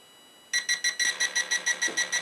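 A radio-controlled car's ESC beeps after being switched on during radio programming: a run of about eleven short, evenly spaced, bright electronic beeps follows a moment of quiet, loud and close.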